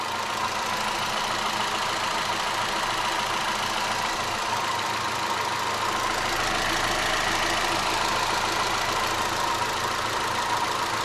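A rebuilt Hyundai i30 1.4 engine idles steadily and evenly, a continuous close rumble with no knocking, pauses or voices.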